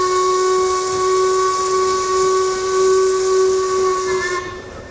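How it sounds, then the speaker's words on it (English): A paddle steamer's steam whistle blows at a riverboat festival in Wentworth, a loud, sustained tonal blast with breathy steam hiss that holds steady for over four seconds before tailing off. "Ah, the sound of the whistle."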